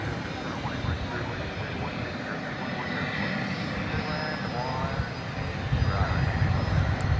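A British Airways jet airliner at Dallas Fort Worth Airport produces a steady, distant engine roar that holds evenly throughout and swells slightly toward the end.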